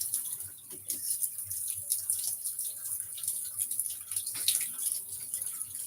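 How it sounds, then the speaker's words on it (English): Cold water runs steadily from a kitchen tap into a sink drain, a continuous hissing splash at moderate distance with faint irregular drips and gurgles, no talking. "It's always advisable to run cold water when you pour hot water into the drainage."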